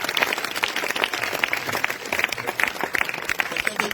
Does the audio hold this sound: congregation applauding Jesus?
yes